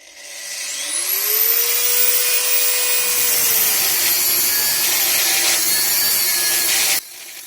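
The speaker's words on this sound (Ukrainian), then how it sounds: "Зараз пару сварочок обрізаємо і знімаємо плиту." A high-pitched angle grinder spins up and cuts through welds on a homemade tractor's rear hitch plate for several seconds, loud and close, its whine shifting slightly before winding down.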